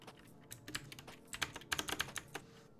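Quick bursts of typing on a computer keyboard at a streamer's game-jam setup, with irregular clusters of close, crisp keystrokes and brief pauses between them.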